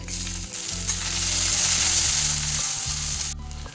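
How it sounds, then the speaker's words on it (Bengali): Onions hit hot mustard oil with whole garam masala, bay leaf, cardamom, cloves and cinnamon for a raw jackfruit and soya chunk curry, giving a loud steady sizzle with low stirring thumps near the pan, no talk. "মশলাগুলো ভাজা হয়ে গেছে গোটা গরম মশলা এবারে দিয়ে দেবো পেঁয়াজ"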